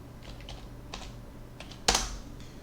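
A password typed on a computer keyboard: a few sparse, light key taps followed by one loud, sharp keystroke, close up over a low steady hum, with no voices.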